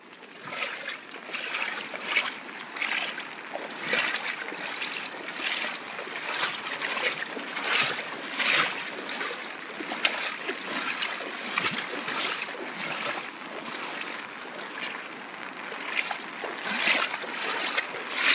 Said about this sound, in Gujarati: નદીનું પાણી ગયું ખેતરમાં ખેતર હાવ ધોઈને ખાડા પાડી દીધા છે